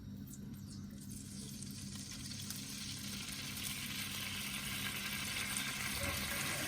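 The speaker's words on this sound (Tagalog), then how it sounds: "sa mismong kawali na ating pinagprituhan, ilalagay na natin yung ating ginawang soy sauce glaze" A soy sauce glaze hits a hot frying pan where cassava was fried, giving a steady close sizzle that swells gradually louder, alone without talking.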